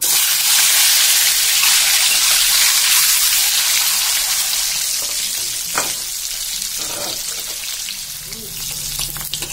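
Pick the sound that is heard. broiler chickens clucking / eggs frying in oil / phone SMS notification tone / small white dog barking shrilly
eggs frying in oil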